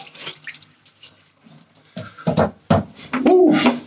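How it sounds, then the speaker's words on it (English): Water splashes and drips as a face is rinsed off at a sink after a shave with a classic safety razor, in uneven close bursts of splashing broken by short quiet gaps. "Rinse off."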